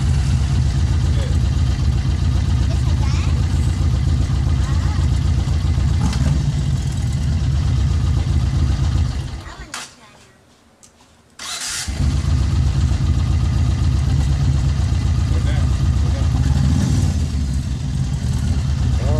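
A car engine runs loudly at close range and idles, drops out completely for about two seconds, then roars back and keeps running.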